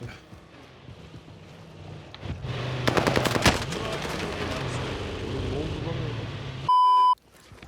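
Automatic gunfire in a video game rattles in a rapid burst that peaks briefly, followed by softer game noise and a loud electronic beep at the end.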